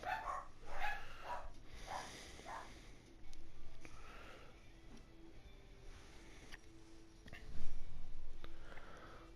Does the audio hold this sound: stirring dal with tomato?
no